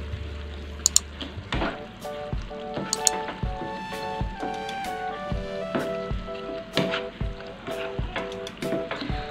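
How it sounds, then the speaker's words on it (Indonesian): Shrimp stirred through Padang sauce in a pan with a spatula, scraping and clacking in a steady rhythm over a soft sizzle, with occasional sharp knocks against the pan. "Ini kita aduk kembali sampai semuanya tercampur rata"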